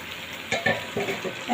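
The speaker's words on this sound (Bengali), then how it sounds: "আবারও ঢাকা দিয়ে দু থেকে তিন মিনিট আমি ফুটতে দেবো" Puti fish curry simmering in a covered pan, a soft continuous sizzle and bubbling with a few brief pops and clinks, close and quiet, no talk.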